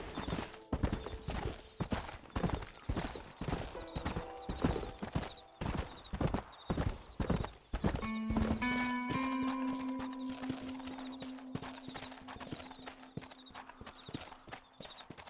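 Horse hooves in Red Dead Redemption clip-clop in a quick, steady rhythm close by, then the horse lets out a rising whinny as the hoofbeats continue underneath.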